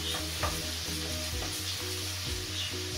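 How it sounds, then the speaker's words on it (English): Pancetta or bacon sizzles steadily in oil in a pan, with a constant frying hiss and repeated rhythmic knocks of a spoon stirring it, close and clear. "get your pancetta or your bacon all spread around so it gets covered in your oil there real good"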